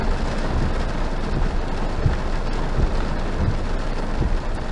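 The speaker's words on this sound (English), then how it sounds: "It's raining in my car." Heavy rain falling on a car, a dense, even hiss of drops drumming on the body and glass, with occasional louder patters, close and steady throughout with no talking.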